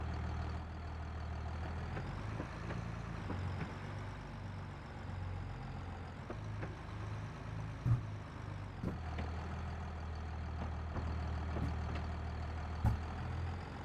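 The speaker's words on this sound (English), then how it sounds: "Nice and responsive, this tractor as well." Tractor engine in a farming simulator game, a steady low idling drone with a pulsing rhythm, running continuously and moderately loud, with a few faint knocks and clunks and no talk.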